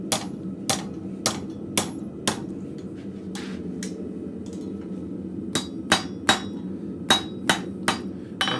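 A hammer rings against metal on a blacksmith's anvil in a shop. Sharp, separate strikes come in irregular bursts, some doubled and some spaced out, over a low steady background hum.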